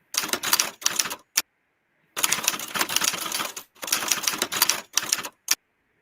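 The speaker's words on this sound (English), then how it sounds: "Some people didn't like the typing sound." Fast, loud clattering keyboard typing comes in several dense bursts separated by brief pauses, close and with no voices.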